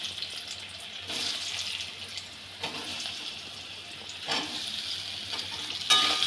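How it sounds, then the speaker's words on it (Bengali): Potatoes fry in oil with cumin and bay leaf, giving a quiet, continuous sizzle broken by a few louder bursts of stirring and scraping spaced a second or two apart. "জিরে তেজপাতা ফোড়ন দিয়ে দিলাম। এবার আলুটা দিয়ে দিলাম।"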